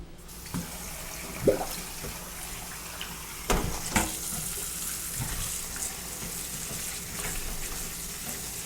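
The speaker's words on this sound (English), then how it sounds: "You got dirt, so you want to rinse them out." Water running from a tap as freshly cut vegetables grown in soil are rinsed, a steady faint splashing stream with a few louder splashes and knocks against the sink.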